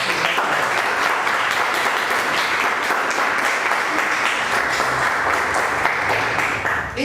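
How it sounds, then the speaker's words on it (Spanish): An audience applauds steadily to welcome a string quartet onstage, a dense, even wash of clapping for several seconds with no voices. "Quiero que le demos la bienvenida con un fuerte aplauso."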